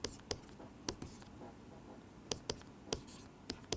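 Writing on a board during a physics lecture, with sharp, irregular taps and short scratchy strokes, some in quick pairs, against a quiet room.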